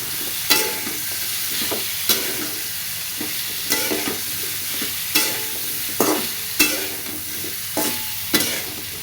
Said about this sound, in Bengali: পরিমাণ মতো লবণ আর হলুদ দিয়ে ভালো মতো ভেজে নেব